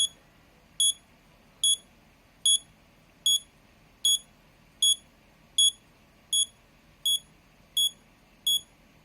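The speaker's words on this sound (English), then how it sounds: "it'll beep for 40 seconds just like the real game" An Arduino-built bomb prop for gel blaster games emits sharp, high electronic beeps in a steady rhythm, about one every 0.8 seconds, clear and close over a quiet background with no talking.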